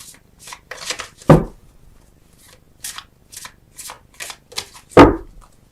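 Tarot cards shuffled by hand in a series of crisp riffling bursts and sharp snaps, close and loud, separated by short quiet gaps.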